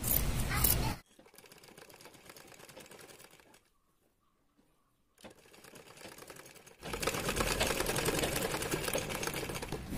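A normal domestic sewing machine stitches piping onto a churidar neck in loud bursts of rapid mechanical whirring, pausing into near silence midway before running again, louder and steadier, toward the end; no one speaks.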